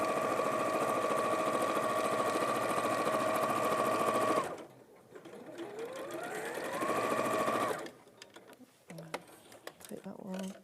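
A sewing machine stitches straight lines in a rapid, steady mechanical whir, stopping, restarting with a rising spin-up, then falling silent among handling clicks and faint speech.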